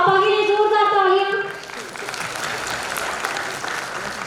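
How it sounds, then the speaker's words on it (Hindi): At a 75th Corps Day diamond jubilee celebration, a sustained voiced tone gives way after about a second and a half to loud, even applause from a crowd that carries on to the end. "मेरे पापा के लिए जोरदार तालियां।"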